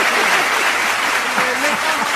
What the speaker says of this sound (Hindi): तालियां जोरदार बजाइए